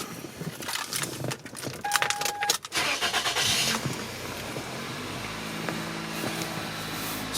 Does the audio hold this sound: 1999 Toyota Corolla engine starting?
yes